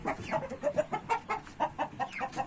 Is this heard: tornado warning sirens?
no